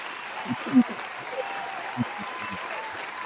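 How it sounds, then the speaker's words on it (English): Faint, diffuse applause from a talk-show audience thanking a guest, a soft, continuous wash of clapping with a few low thumps near the start. "Round of applause for D."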